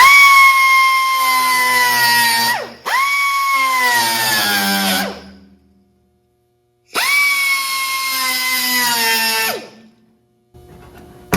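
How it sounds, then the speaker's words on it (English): An angle grinder cuts welds off the bodywork of a long, low Chevrolet C30 dually truck. It whines loudly in two long bursts that sag in pitch under load, then gives a brief final burst. "I got to grind these 3 welds off."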